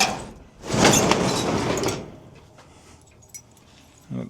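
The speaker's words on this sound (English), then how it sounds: "The door just rolls up." A roll-up garage door at a house in Jacksonville opens with a loud rattling, rumbling slide lasting over a second, then fades to faint clanks and a final knock.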